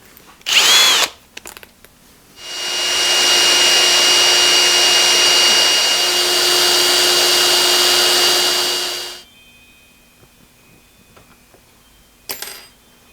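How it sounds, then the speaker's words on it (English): A tap size drill bit cutting into metal on a 1917 Avey drill press fitted with a Vevor mill table, a steady whining grind lasting several seconds alone, bracketed by short bursts of the motor starting and stopping. "Now I'll change the drill. to the tap size drill."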